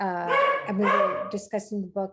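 A dog barks and yips in the background while someone speaks over it on a video call, the barks coming as a few short bursts near the end.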